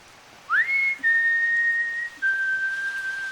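A melodic whistled tune from a soundtrack piece plays as long, clear sustained notes that slide into place, bright and prominent over a faint backing, with no talk.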